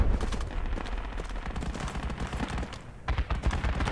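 Rapid, close gunfire from a war video game, with continuous overlapping automatic bursts and shots that stay loud throughout, without any talk.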